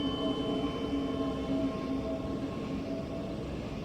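A Thameslink Javelin train in a Train Sim World 3 simulation on the Southeastern High Speed line rolls past with a steady, loud rumble and tonal motor whine, holding an even level throughout.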